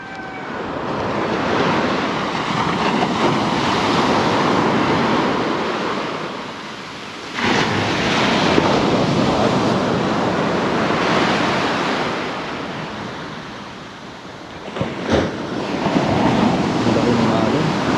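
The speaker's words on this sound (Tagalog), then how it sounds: "Ang laki ng alon." Large ocean waves break on the shore at Bucana, a loud, continuous surging roar that swells and falls in broad pulses, with wind buffeting the microphone.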